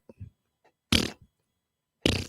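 Two short, loud farts sound close by, about a second apart, with faint voices murmuring softly between them.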